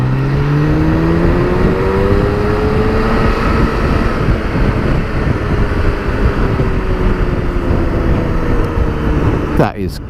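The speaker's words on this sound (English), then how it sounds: "That is quite an engine." A BMW K1600GT motorcycle engine pulls and rises in pitch while riding, heard up close under heavy wind rush, with gear changes shifting the engine note and a voice talking over it.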